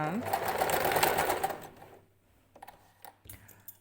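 A sewing machine runs briskly for about two seconds while stitching a long dress, then stops, leaving a few clicks and light handling noises. A voice speaks over part of the clip.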